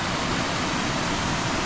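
Small two-layer waterfall at Camp Creek State Park, a steady broadband rush of falling water heard close and loud, uniform and continuous without pauses.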